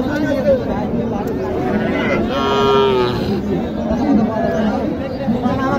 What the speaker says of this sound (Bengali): এই 4টা গরু খুবই চমৎকার